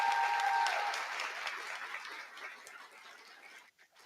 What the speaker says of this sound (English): we'll open up with a little bit of an applause for these folks before we even get started